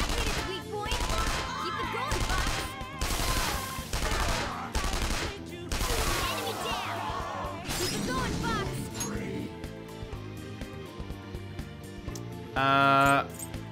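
A gun attack in Persona 5 Royal unleashes a rapid run of loud gunshots and shattering impacts, followed by quieter battle sounds, with a voice talking over parts of it.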